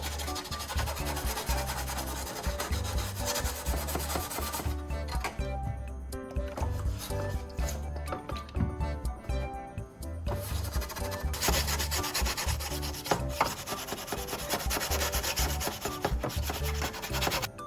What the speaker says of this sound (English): I then flipped the saw over and repeated the sanding process on the other side.